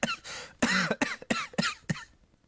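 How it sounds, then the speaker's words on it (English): A character in the 1995 PlayStation game Space Griffon VF-9 coughs in a quick series of about six short, dry hacks, fairly quiet and alone. "Maybe I caught a cold. I'm coughing."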